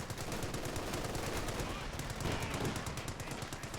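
Sustained machine gun fire from a Company of Heroes 2 match between Wehrmacht and US Forces, a dense rattling burst of continuous shots running loud throughout with battle noise layered beneath.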